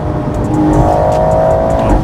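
A BMW M140i xDrive accelerates hard from a standstill, its engine note climbing steadily and loudly through the revs in a continuous roar, heard from inside the car.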